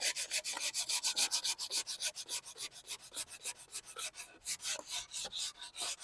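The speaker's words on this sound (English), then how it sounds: "Don't want to sand too much, you change the shape of stuff." A cheap cork sanding block is rubbed back and forth over a wooden board to clear a burn mark, giving close, rhythmic scratchy strokes in quick succession, with no talking.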